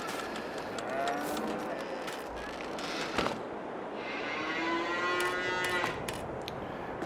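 Cattle on a farm in the video game Farming Simulator 22 moo in several drawn-out calls over steady ambient farm noise, with no talking.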